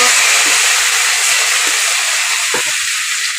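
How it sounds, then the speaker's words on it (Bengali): Tomato paste hits hot oil in a pan with a loud, steady broadband sizzle and hiss close by, continuous throughout with a few faint clinks and no talking. "একটুখানি তেল দিয়ে দেব, এবার দিয়ে দেবো পেস্ট করে রাখা টমেটো।"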